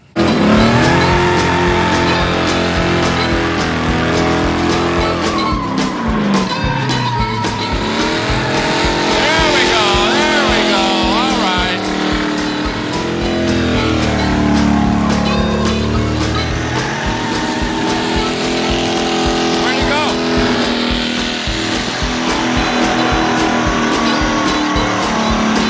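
A diesel El Camino doing a smoky burnout at a drag-racing event, its engine roaring loud and sustained with rising revs and squealing tires throughout, voices faintly mixed in.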